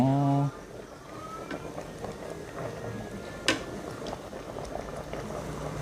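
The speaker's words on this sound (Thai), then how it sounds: "เดือดแล้ว เดือดแล้วเดือดแล้วเดือดแล้ว เข้มข้นมากหอม" Thai bamboo shoot curry bubbling in a pot, a steady close simmering patter with a few louder pops, heard under a voice talking in Thai.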